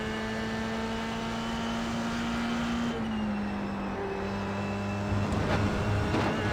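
Race car engine in the iRacing sim, played on a Moza FSR wheel with an R9 direct-drive base: a steady, loud engine drone holds pitch, dips as the car shifts around the midpoint, then rises again with revving near the end.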